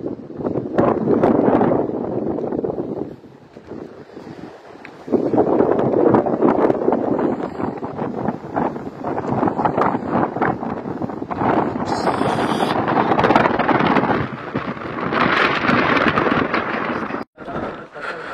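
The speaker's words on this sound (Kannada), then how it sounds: "ಗಾಳಿ ಬೀಸಿದೆ ಜೋರಾಗಿ" Strong wind sweeps across the top of Kundadri hills near Shimoga amid thick fog, loud roaring gusts buffeting close to the microphone in long surges with brief lulls between them.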